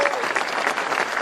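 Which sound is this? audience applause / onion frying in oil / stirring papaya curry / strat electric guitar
audience applause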